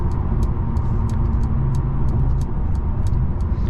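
Inside a 2023 Mercedes CLA 250 with a 2.0 turbocharged engine and 7-speed automatic, driven in comfort mode: a steady, muffled engine and road hum fills the cabin, with faint evenly spaced ticks over it.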